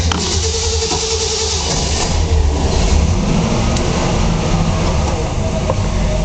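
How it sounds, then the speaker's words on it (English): A restored 1966 Ford Bronco engine runs at a loud, steady, rumbling idle close up, with a continuous low drone and no talk over it. "I want to let you hear this baby start up and running."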